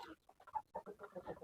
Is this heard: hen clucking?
yes